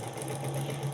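An electric sewing machine runs steadily while stitching the band onto a flat collar, a continuous close motor hum with a droning mid-pitched whine and no talking.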